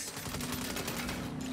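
Rapid bursts of automatic gunfire in Saints Row (2022) rattle steadily throughout, dense and loud, with no talking over them.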